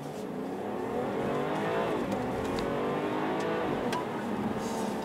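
A BMW 540i xDrive (G30) engine revs hard and climbs in pitch as the car launches and accelerates on a winter night, with brief tire noise over the roar.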